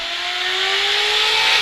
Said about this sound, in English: You hear the Westbury Turtles B ladder.